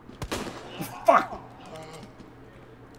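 A few sharp gunshot cracks from the video game Resident Evil 2, the loudest around the middle, over a steady background hum, with no talking.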